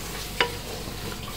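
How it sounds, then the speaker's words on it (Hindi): Chana dal, pumpkin and bottle gourd roast in a pan with a soft, continuous sizzle, broken by one sharp scrape or stir partway through. "और यहाँ पर मैंने चने की दाल भी डाल दी है और कद्दू भी डाल दिए हैं, लौकी, इसको अब अच्छे से भूनेंगे"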